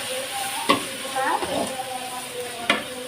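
Tomatoes sizzle steadily in a hot pan while a utensil scrapes and stirs, with a couple of sharp clinks against the pan.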